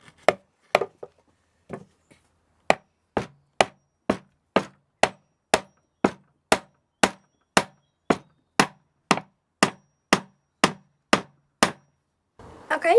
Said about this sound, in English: just banging some nails in